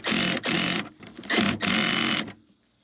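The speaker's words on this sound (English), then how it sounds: "Gonna tighten the top bolt." A power driver set to its lightest setting tightens a 10mm top bolt on a Toyota Prius 12-volt battery, whirring in three close bursts before cutting off.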